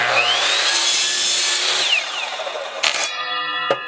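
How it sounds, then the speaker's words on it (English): A chop saw cuts through Schedule 40 PVC pipe with a loud, steady whine up close, then the motor winds down and a few clacks follow. "we will need a chop saw for cutting all of our PVC"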